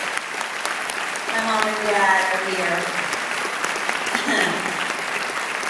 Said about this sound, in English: Give him an applause, he's here.